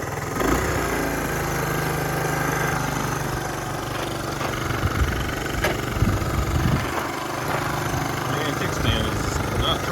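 A 1970 Honda Trail 90 motorcycle engine that runs but won't go into gear, idling steadily close by with a constant throbbing drone and some clatter, a voice speaking over it at times.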